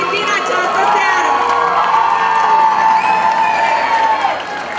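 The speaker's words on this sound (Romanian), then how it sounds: "Și încă o dată să aplaudăm puternic pe toți concurenții noștri din această seară." A crowd at a high school freshman ball competition applauds and cheers loudly, with whoops and shouts rising over continuous clapping, sustained and close before easing slightly at the end.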